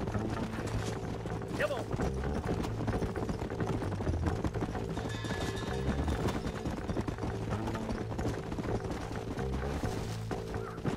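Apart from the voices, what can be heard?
horse hooves from the video game Red Dead Redemption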